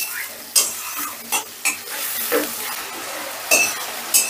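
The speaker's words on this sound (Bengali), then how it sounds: "এবারে গ্যাসের আঁচটা বাড়িয়ে দিয়ে আমি পেঁয়াজটাকে কষিয়ে নেব।" Onions frying over a raised gas flame for a Bengali catla fish curry, a close sizzle with sharp spatula scrapes and clinks every second or so, no voices.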